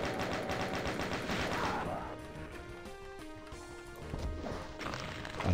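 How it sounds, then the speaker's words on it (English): Chain gun in the Plutonia 2 game, a rapid, steady stream of loud shots for about two seconds, then impact crashes and tonal game sounds, with the fire resuming briefly at the end. "Then maybe kill you with the chain gun."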